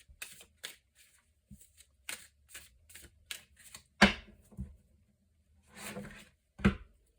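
Oracle cards shuffled for a tarot-style reading, soft papery riffles and flicks in an irregular rhythm with a few taps on a table, close and quiet, no talk.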